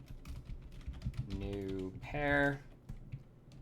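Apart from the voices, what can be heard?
typing on a computer keyboard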